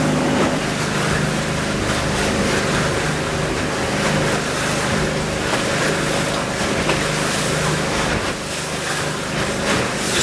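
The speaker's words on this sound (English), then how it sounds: "Had a big boat go by." A large boat passes by on a lake, its steady engine drone and rushing wash holding loud and constant for the whole stretch, with some wind and lapping waves, and no talk.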